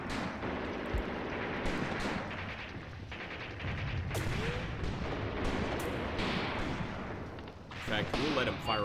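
Battlefield gunfire from tanks and infantry in the wargame Graviteam Tactics: Mius Front, with repeated booming shots and rattling bursts at mixed distances, heard under a voice speaking.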